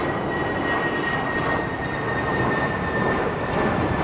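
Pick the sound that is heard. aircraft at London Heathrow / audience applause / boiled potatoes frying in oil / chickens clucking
aircraft at London Heathrow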